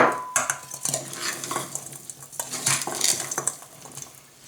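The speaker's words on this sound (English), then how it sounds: "So I'm going to mix that into the berries." Tapioca being stirred into blueberries in a bowl for a cobbler, a spoon scraping and clinking against the bowl in irregular bursts, close and fairly quiet, with no talking.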